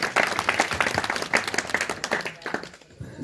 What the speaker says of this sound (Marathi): टाळ्या वाजा सर्व.